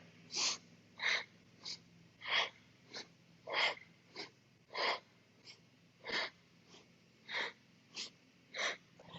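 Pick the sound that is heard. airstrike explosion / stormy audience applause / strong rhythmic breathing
strong rhythmic breathing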